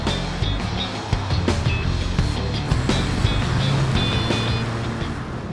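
A Ferrari Roma engine while driving: a dense, continuous low drone mixed with road and wind roar, loud and steady with no gaps.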